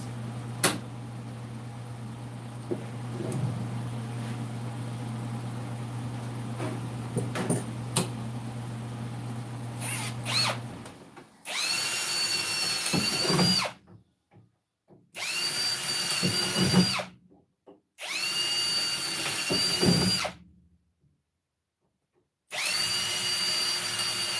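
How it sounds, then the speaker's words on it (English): A power drill whirs in several loud, high-pitched bursts of a few seconds each, separated by short silences, after a stretch of low background hum and clatter. "we're just drilling around the outside"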